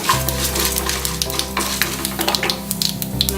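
Lentils, fenugreek and asafoetida fry in hot oil for a Chettinad kadamba chutney, a steady, close crackling sizzle with occasional stirring clinks throughout.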